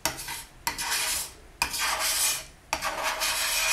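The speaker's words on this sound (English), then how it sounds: "you'll just start scraping along the tile, and this will pick up your paint" A tissue blade scrapes dried paint off a tile, heard as three long rasping strokes, each starting with a sharp edge and fading out, close and steady with no talking.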